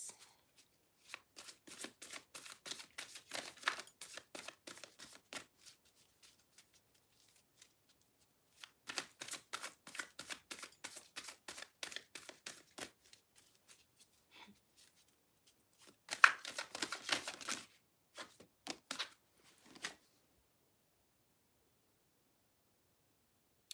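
Tarot cards being shuffled in three separate bursts of rapid, crisp riffling, close and fairly quiet, with silent gaps between the bursts and no talking.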